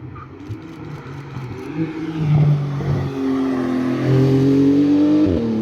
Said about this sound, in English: once I saw the magnificent yellow GT2RS crossing the start line